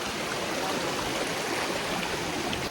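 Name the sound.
small waterfall stream flowing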